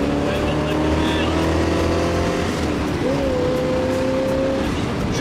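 A Ford Mustang Mach 1 engine drones loudly and steadily from inside the car, its pitch dropping and then rising sharply through a double-clutch gear change, with voices speaking over it.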